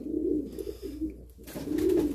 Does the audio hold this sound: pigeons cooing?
yes